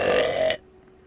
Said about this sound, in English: he belched all over him